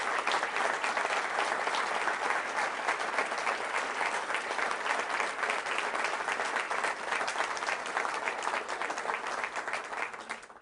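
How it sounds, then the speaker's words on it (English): Steady, dense applause from a large crowd, loud and sustained for about ten seconds with no voices over it. "I would like to hear a round of applause for Billy Joe and what he's done for ORU."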